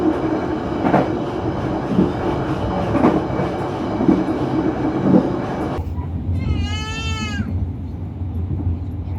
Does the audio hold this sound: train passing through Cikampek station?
yes